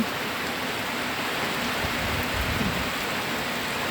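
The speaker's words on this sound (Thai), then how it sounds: "วันนี้ที่ มีฝนแต่ว่าไม่มีฟ้านะคะ" Steady rain falls in a continuous, even hiss, with a soft low rumble beneath it and no voices.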